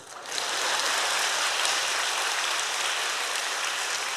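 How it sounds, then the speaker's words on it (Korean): An audience at a church testimony gathering breaks into applause, a steady, close wash of many hands that rises sharply and then holds as an even roar to the end. "박수."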